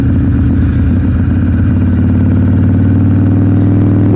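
A Harley-Davidson Sportster 1200 drones steadily underway on a country back road, a loud, continuous low engine rumble with a constant pulsing beat and no talking.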